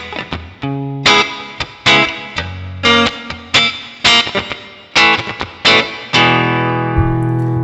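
An electric guitar with a humbucker bridge pickup plays through a NUX Mighty Plug headphone amp modeller, with distorted strummed chords struck about once a second, each ringing out in heavy reverb, ending on a long sustained chord.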